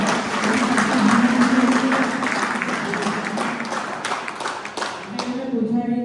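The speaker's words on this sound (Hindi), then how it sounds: "हर प्रश्न के बाद तालियों से उनका मनोबल बढ़ाया जाता है।" Audience applause at a CPR training session at an agricultural college in Jhalawar, a steady wash of many hands clapping with crowd noise throughout, fading briefly near the end before a voice resumes.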